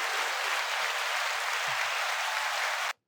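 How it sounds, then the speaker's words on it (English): Steady, dense applause fills the space at a podcast recording, loud and unbroken for about three seconds before cutting off abruptly into silence. "Round of applause,"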